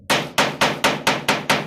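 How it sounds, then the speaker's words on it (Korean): Hammering, heard as seven loud, evenly paced blows in quick succession, each a sharp close impact with a brief decay and no talking. "스탑 해주시면 망치질을 멈춰 주십시오."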